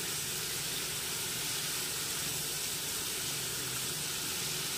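Spices frying in a pan for a thin Bengali hilsa fish curry with chili, a loud, steady broadband sizzle and hiss that holds evenly throughout, close and unbroken, with no talk.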